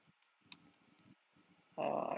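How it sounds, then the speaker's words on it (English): Light, quick keystrokes tap on a computer keyboard at close range, a scattered run of soft clicks before a louder, denser burst of noise takes over at the end. "if I'm going to refresh and type something like"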